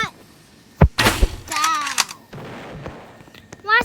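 Sharp gunshots in an airplane wars video game, a few separate loud cracks and thumps with other game effects between them and no speech.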